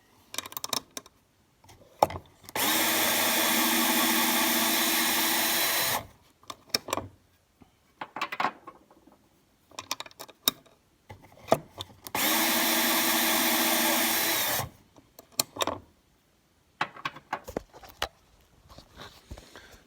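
A case trimmer cuts .223 Remington brass casings in two sustained, steady powered whirring bursts of about three seconds each, close and loud. Brief clicks and handling clatter of the brass come between and after the bursts.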